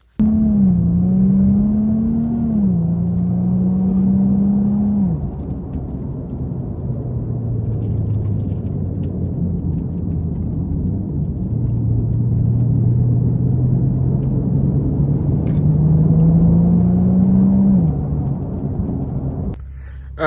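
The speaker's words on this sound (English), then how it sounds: "my front passenger side wheel bearing is like blown. So the car is a little like loud and driving" A car with a blown front passenger-side wheel bearing drives along, giving a loud, steady low drone and rumble whose pitch shifts slightly with speed, continuous and close throughout with no talking.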